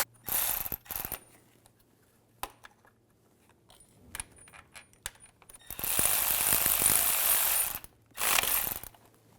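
Ratchet tightening the starter bolt on a 2005-2010 Volkswagen Jetta 2.5L, quick clicking bursts close up, the longest run near the end, with short pauses between strokes.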